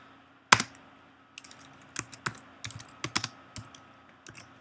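Keys clatter on a computer keyboard as a command is typed at a Linux terminal on Ubuntu, with a sharp first stroke followed by irregular bursts of clicks separated by short pauses, close and fairly quiet.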